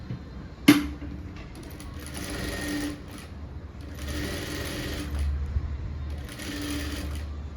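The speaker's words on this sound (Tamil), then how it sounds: "இதே மாதிரி நம்ம இன்னொரு பீஸையும் தைச்சி எடுத்துடலாம்." Sewing machine stitching a blouse piece in a tailoring class, a sharp click at the start followed by three short bursts of close, rapid stitching with brief pauses between.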